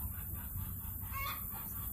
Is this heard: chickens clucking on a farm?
yes